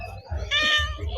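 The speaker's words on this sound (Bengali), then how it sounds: "এটা কার বিড়াল? একটা ছোট্ট একটা কিউট বিড়াল।" A small kitten gives a clear, drawn-out meow at close range, sounding over a low background hum, with a brief voice speaking just before it.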